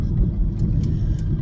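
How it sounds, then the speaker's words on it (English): A car with a worn ball joint rolls down the road, a steady engine and road rumble with faint, irregular knocks that are hard to pick out. "It's the sound of a ball joint."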